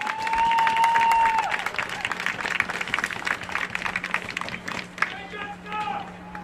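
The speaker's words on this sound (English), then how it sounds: "So can you give them a round of applause for these kids?" Audience applause at a school performing arts center, a dense burst of clapping that thins out over several seconds, with voices and cheering mixed in.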